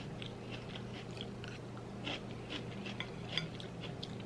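Chicken nuggets being bitten and chewed up close during a Whole Foods mukbang, with soft crunches and moist mastication over a low steady background hum, no talking.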